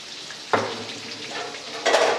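Chicken frying in a karahi sizzles close up, with sharp bursts of louder hissing as pieces are stirred and turned, along with faint clinks of utensil against pan and no talking.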